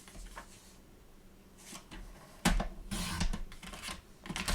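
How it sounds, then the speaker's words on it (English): Cardstock being cut just inside a score line with a paper trimmer, giving a few close dry clicks and scraping swipes, the loudest burst midway, followed by rustling handling, no talking. "we're going to cut just inside this score line on that side"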